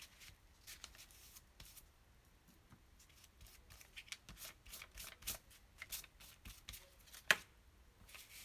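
Scissors snip through paper in a quick, uneven series of crisp cuts while trimming scrapbook paper for a photo album page, with soft rustling handled close up in a quiet room.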